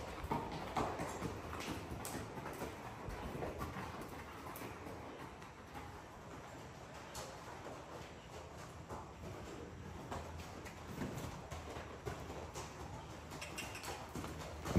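A Missouri Foxtrotter mare walks with steady, rhythmic clip-clopping hooves, close and fairly soft, over a constant outdoor background and no talk.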